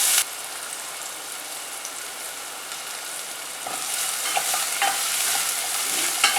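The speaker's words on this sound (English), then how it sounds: "next I'm adding onions, chopped onions" Chopped onions sizzle in hot oil with green cardamom and garlic in a pan while being stirred for tomato kurma, a steady close frying hiss with sharper scraping stirs toward the end.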